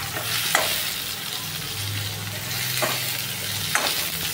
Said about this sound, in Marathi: त्याला हलवतच राहू आपण जोपर्यंत शिजत नाही ते नीट.